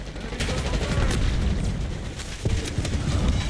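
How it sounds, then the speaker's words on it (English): A thermo grenade goes off in the video game Black Ops 6 during a Hardpoint match, giving a heavy, rumbling blast that keeps roaring and crackling for several seconds. A second surge comes partway through. The sound is loud, with no talk. "I'm gonna try to kill them all with 1 thermo"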